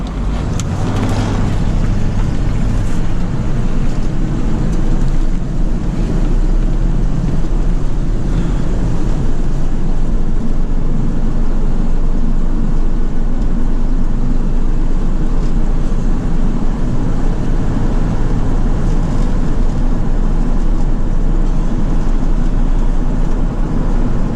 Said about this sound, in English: you can hear the belts on my motor squealing too